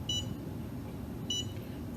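A VacuTherapy suction machine gives two short, high electronic button beeps about a second apart over a steady low background hum.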